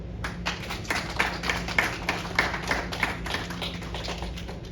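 A class of martial arts students practicing forms claps together for a classmate, a steady stream of overlapping hand claps with a room-like ambience.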